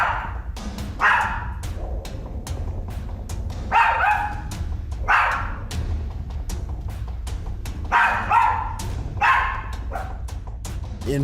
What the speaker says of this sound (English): The dog's eyes are focused in on one spot